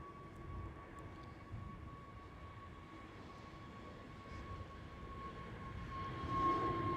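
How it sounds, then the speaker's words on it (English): An EasyJet Airbus A320neo jet airliner at Amsterdam Schiphol gives off a steady, distant engine roar with a faint whine, holding even throughout and swelling slightly near the end. "There goes EasyJet, Airbus A320 Neo."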